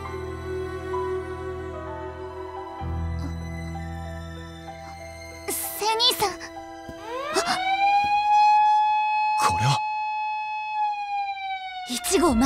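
A wailing alarm siren sounds in the Sakura Wars video game on PS4, signalling an attack on Ginza. It rises, sustains and falls in long sweeping tones over game music, with brief sharp effects between the wails.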